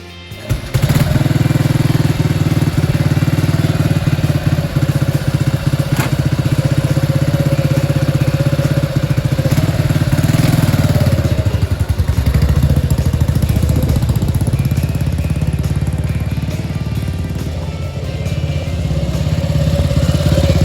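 A BSA C12 motorcycle engine runs loud and close on its first ride after 40 years of restoration, a steady throbbing single-cylinder drone that dips and rises with the throttle for the whole stretch.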